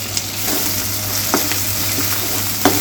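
Ginger garlic paste fries in a pan with a steady close sizzle, with a few light spoon scrapes and stirs on top and a low hum underneath.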